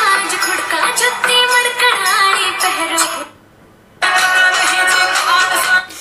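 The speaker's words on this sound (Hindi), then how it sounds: "यहाँ पे आपको एक से बढ़कर एक रिंगटोन मिलेगा," A Hindi song ringtone from the movie Pathan plays loudly from a mobile phone as a bright melody, breaks off briefly with a short silence, then resumes.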